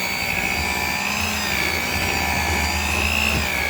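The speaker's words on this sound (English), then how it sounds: "We're going to go ahead and blend that together." A blender mixes cream cheese and condensed milk for mini cheesecakes, giving a loud, steady whirring motor drone that runs unbroken for the whole few seconds with no talking.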